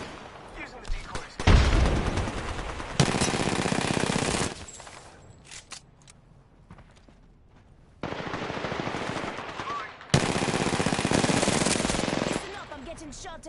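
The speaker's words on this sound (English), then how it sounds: "Shot at. Shots fired," In Apex Legends, close automatic gunfire rattles in long, loud sustained bursts separated by a quieter gap, with a heavier thump near the start of the first burst and a voice speaking under the shooting.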